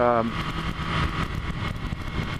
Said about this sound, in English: now I've got their Scrambler Cafe Racer out